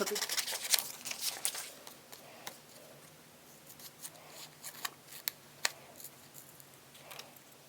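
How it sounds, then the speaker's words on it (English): Scissors snip through journal paper in a series of crisp, close cuts, irregularly spaced, with soft rustling between them. "gave you a little bit there with the cutting scissors against the paper"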